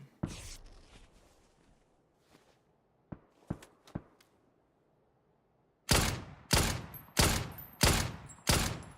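Gunshots in PUBG: a distant shot and a few scattered sharp cracks with quiet gaps, then five loud, evenly spaced close rifle shots in a steady rhythm.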